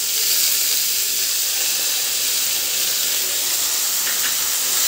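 Beaten sour curd hits hot mustard oil in a pan, giving a loud, continuous broadband hiss that holds steady throughout without pauses, with no speech over it.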